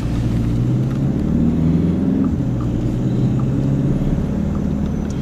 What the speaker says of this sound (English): So I'm driving now at 60 kph towards the obstacle.